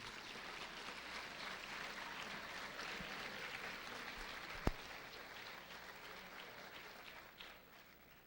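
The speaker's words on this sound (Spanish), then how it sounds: "Un aplauso por favor para el doctor Acosta" Applause at a Mexican student medical congress at a university in Ciudad Juárez greets a speaking doctor, a faint, even patter of many hands from a distance, with one sharp louder crack near the middle.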